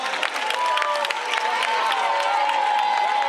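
A crowd at the Oceanografic aquarium applauds a boy, brisk clapping mixed with some cheering and children's voices, lively and sustained for a few seconds.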